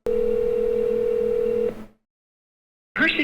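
A telephone dial tone on a call to the Powell County Sheriff's Office hums as a steady loud tone for about a second and a half, then cuts off into silence before a brief automated sound starts.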